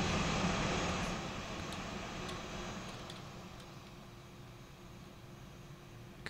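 A plane on final approach to runway 9 at an airport, its engine noise a steady broad roar that fades gradually as it passes, with faint ticks on top and no talk.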